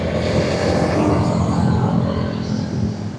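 Motorbikes on a group ride along a green monsoon ghat road, a loud continuous engine roar with rushing wind as one rider overtakes nearby.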